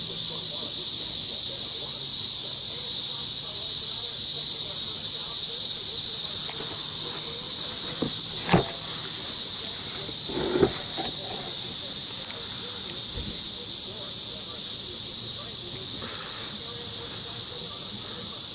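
A heat gun blows hot air to melt the door handle panel of a Dodge SRT4 Neon, a loud, even, close hiss that runs unbroken, with a few faint knocks and brief speech underneath.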